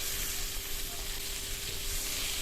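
Dried chilies, chopped ginger and garlic frying in hot oil give a steady, even sizzle that holds at one level from start to finish, with no voices.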